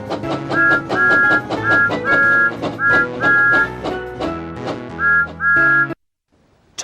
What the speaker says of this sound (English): Pull down on the Wii remote to blow the whistle.